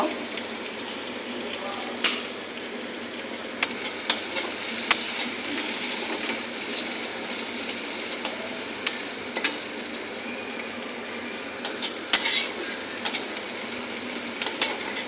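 Whole cumin seeds frying in hot oil with onion, a steady close sizzle punctuated by sharp clicks and taps of stirring against the pan throughout, with quiet talk at times.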